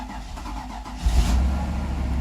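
A Mercedes car engine, long left sitting, turns over and catches, then settles into a low rumbling idle close by.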